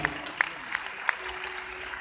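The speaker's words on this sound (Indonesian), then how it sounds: "Tepuk tangan yang berikan lagi" An audience applauds at a pre-Christmas church service and fifth-anniversary celebration of GBI Marina Plaza in Manado, a steady, moderately distant wash of clapping with a few sharper tones on top.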